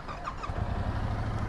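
A Yamaha YZF-R7 sport motorcycle starts up and settles into a steady, close low engine idle that runs continuously to the end.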